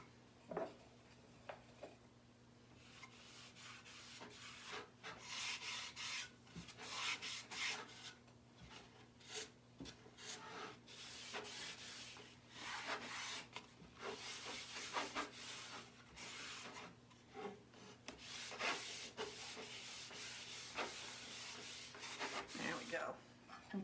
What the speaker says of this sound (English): And then I like to wax the outside of it too, because I just like the way it kind of enhances the wood grain.